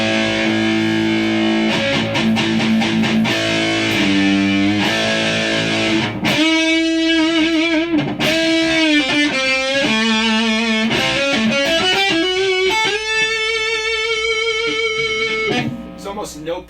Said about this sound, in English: Let's go for the full-on rectifier. So this is the rectifier.